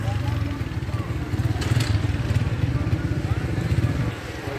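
A motorbike engine in a busy Kashmiri bazaar in Rawalpindi, a steady nearby idle with a fast chugging pulse running under crowd noise.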